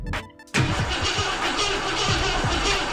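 A 1967 Ford Thunderbird engine cranks, with a brief whirring crank followed by a loud, rough, continuous engine roar with rhythmic pulsing, close by.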